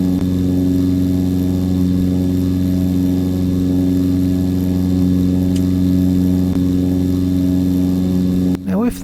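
A steady, droning aircraft engine in a flight simulator game hums continuously at a constant pitch, loud and close, with no change in rhythm until a brief glitch at the very end.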